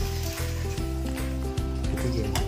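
Mutton for curry sautéing in a pan, a steady close sizzle with faint scraping stirs and a low droning hum underneath, with no voices.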